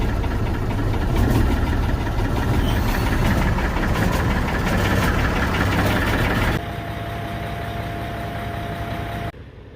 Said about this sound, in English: She idling awful low though.